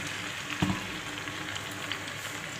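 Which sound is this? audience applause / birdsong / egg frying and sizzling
egg frying and sizzling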